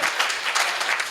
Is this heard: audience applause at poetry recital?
yes